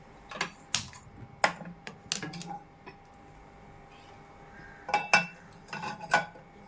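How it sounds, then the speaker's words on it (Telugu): A kadai set onto a stove for green chicken curry gives a scattered series of sharp metallic clanks and knocks, close and fairly quiet, with short pauses between hits. "ఇలా మనం కడాయి పెట్టేసుకోవాలి."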